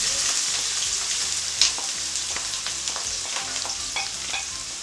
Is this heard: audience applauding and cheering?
no